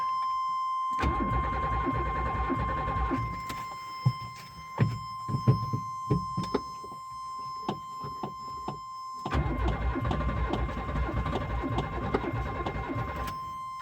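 A car engine cranks and catches, with clicks and rattles in between, then a second long crank-and-run burst; a steady electronic tone hums throughout.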